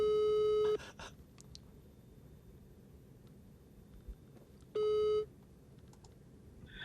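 Two outgoing phone ringback tones sound as steady electronic beeps, one at the start and another about four seconds later, loud and clear against a quiet room with faint clicks between them.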